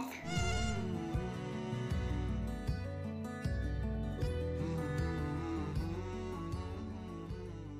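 A cat meows over loud, continuous music in a children's alphabet song, the meows prominent near the start and blended into the busy backing track.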